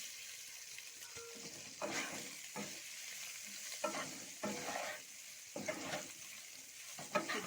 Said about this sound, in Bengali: এবার আমি ভেজে রাখা ফুলকপিগুলো ঢেলে দেব।